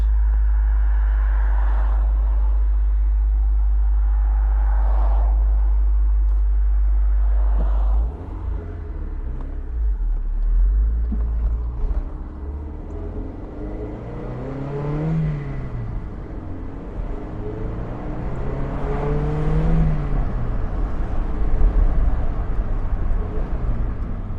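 A 2003 Toyota MR2 Spyder TRD 5-speed on the move, a heavy low rumble giving way to rising and falling engine revs as it accelerates through gears, the pitch sweeping up and dropping back repeatedly.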